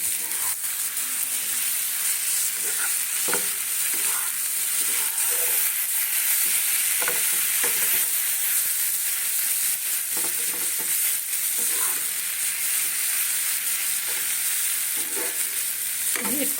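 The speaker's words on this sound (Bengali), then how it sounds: "নাড়া আছে তো বেশি নাড়ানাড়ি করলে ঘেটে যাবে" Grated paneer mash is stirred in a hot pan, a steady sizzle and fry running throughout with repeated scraping strokes of the spatula, close and moderately loud, with no voices.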